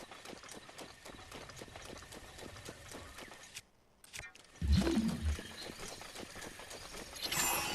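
A horse gallops in Breath of the Wild, a rapid, steady clip-clop of hooves that breaks off for a moment, then resumes with heavy low thuds and louder rumbling.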